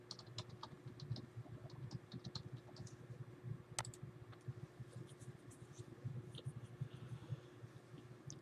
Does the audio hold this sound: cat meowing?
no